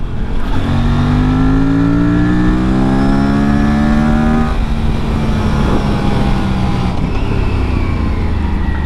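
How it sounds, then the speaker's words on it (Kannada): Aprilia RS457 motorcycle engine on a ride, loud and close, climbing in pitch through the gears with a steady intake howl and rising harmonic tones, then dropping into a rough, throbbing note near the end. "ಆ ಇಂಟೇಕ್ ಹೌಲ್ ಸಕ್ಕದಾಗಿ ಕೇಳಿಸುತ್ತೆ ಇದು"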